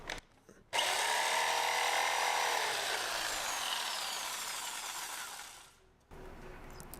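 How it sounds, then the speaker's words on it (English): A jigsaw cuts across poplar wood for camper van walls, a loud steady buzzing cut of about five seconds that slowly fades near the end, with quiet gaps before and after. "because this jigsaw cuts on the upstroke, you can see by the orientation of the teeth there, it cuts on the upstroke."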